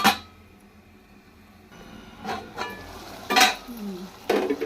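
Chicken fry masala being stirred in hot oil in a pan, soft scraping strokes and light clinks of a spoon against the vessel in brief bursts over a quiet sizzle.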